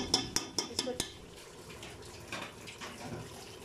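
A glass of water is poured into a pot of browned mutton with spices, with a few sharp clinks at first and then a faint, soft splashing.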